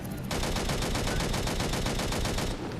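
Sustained rapid auto cannon fire aimed at a turret in the sci-fi shooter Angels Fall First, loud, dense and continuous for over two seconds with evenly spaced shots, starting and stopping abruptly.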